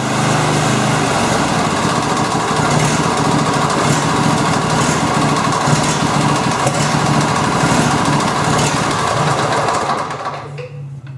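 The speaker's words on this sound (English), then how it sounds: "Jump on the tractor, start it," A used riding lawn mower tractor engine runs steadily and loud up close, a continuous droning hum that holds for about ten seconds before dropping away at the end; no talk over it.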